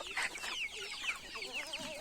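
Chickens of a native breed cluck and chatter on a small poultry and goat farm, a faint but continuous overlapping flock sound with no speech.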